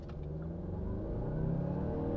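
A 2021 Mazda CX-9 seven-seat crossover pulls hard from a standstill, its engine drone climbing steadily in pitch and loudness, heard from inside the cabin with no talk.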